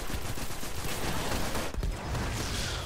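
Dense bursts of shotgun gunfire in the sci-fi shooter game Destiny fill the whole stretch, loud and continuous, with several overlapping blasts and no voices.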